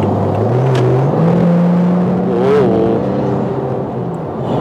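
A BMW G30 540i with all-wheel drive accelerating, a loud close engine note rising steadily in pitch under a constant rushing whir from inside the car.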